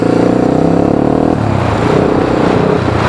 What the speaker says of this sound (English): Normal first gear pull away. Go to second gear.